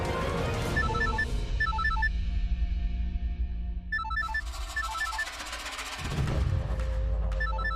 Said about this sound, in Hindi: फोन उठाओ पूनम।